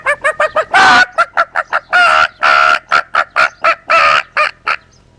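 A man imitates a hen clucking, with a rapid run of short, sharp clucks broken by a few longer drawn-out squawks, loud and close, with no other sound.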